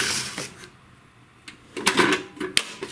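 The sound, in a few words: Best Arc MIG 145 welder side cover clip opening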